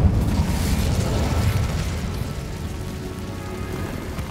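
Incendio fire spell cast in a Harry Potter video game inside an abandoned cave, a continuous rumbling, crackling roar of flame with heavy low end, loudest at the start and easing slightly over several seconds.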